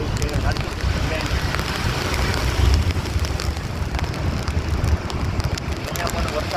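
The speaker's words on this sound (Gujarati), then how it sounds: "અહીંયા પણ વરસાદનો માહોલ વ્યવસ્થિત જામ્યો છે" Rain falls steadily while travelling along Kasturba Road in Rajkot, a broad hiss with wind buffeting the microphone and low traffic rumble, continuous and fairly faint throughout.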